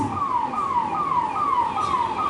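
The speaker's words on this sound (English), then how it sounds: "even as the ambulance is wailing the silence of emergency" Ambulance siren wailing steadily in a repeating falling sweep, about five cycles, fairly loud and continuous with a light hiss of street background and no talk.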